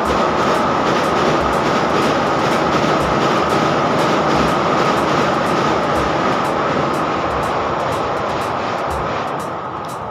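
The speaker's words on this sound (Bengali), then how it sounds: "দেখুন ওপর দিয়ে ট্রেন যাচ্ছে" A Vande Bharat express train passes overhead on a bridge near flower fields. Its loud, continuous rumble and wheel clatter fills the whole stretch, with rhythmic rail-joint clicks, and it fades slightly at the end.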